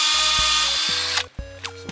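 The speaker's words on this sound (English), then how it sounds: "So we drill in" A power drill bores into the base of an ash tree in short whirring bursts, revving up, stopping and starting again several times, loud and close.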